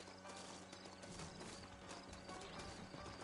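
Horse hooves clip-clop steadily in Red Dead Redemption, a quiet continuous trotting rhythm mixed with faint creaking tack and game ambience, with no talk.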